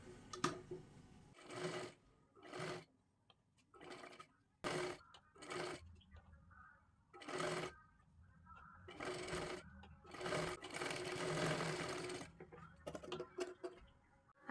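A sewing machine stitches cloth in a circle for a pooja-plate cover made from blouse pieces, running in short repeated bursts with pauses between them, close and fairly quiet.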